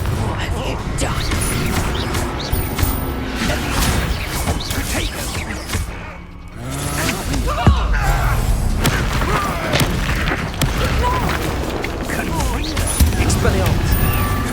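A spell impact from the Expulso explosion spell in the video game Hogwarts Legacy: dense, loud booming combat noise with thuds and whooshes continuing throughout, a brief dip midway, and voices speaking over it.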